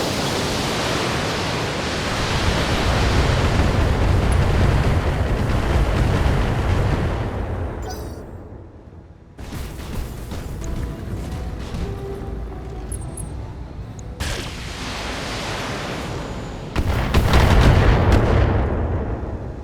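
Mech weapons in the Battletech video game fire and explode in a continuous roaring barrage of blasts and rumbling booms, loud and dense, with brief dips and renewed bursts of heavy fire.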